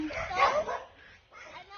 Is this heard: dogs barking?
yes